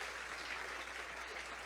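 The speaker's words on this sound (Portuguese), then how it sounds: "Você pode aplaudir o nome do Senhor?" A church congregation applauds together, a steady wash of clapping that fills the room evenly and continues throughout without a break.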